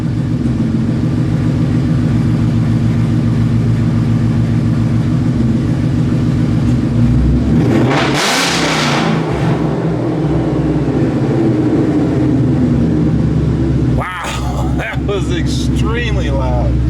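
A Whipple supercharged 2016 Mustang roars at full throttle during no-lift shifting, with a loud, sustained engine drone broken by a sharp burst of pops and bangs midway and another cluster of cracks near the end.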